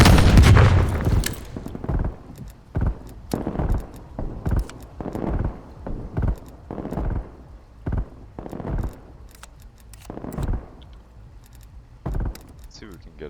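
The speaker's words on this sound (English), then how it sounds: "Throwing frag. Throwing stun." Frag and stun grenades going off in a cold-war shooter video game, a long run of sharp detonation-like bursts and gunfire cracks spaced every second or so, loud and close, with gaps of quieter game noise between them.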